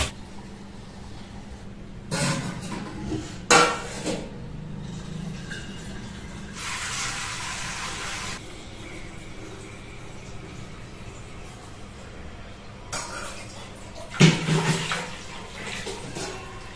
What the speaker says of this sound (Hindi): जल्दी पानी भर देती हूँ